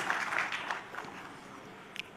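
Audience applause at a presidential launch of cooperatives in Bentangan, Klaten, heard as a fairly faint, steady patter of clapping that fades over about two seconds.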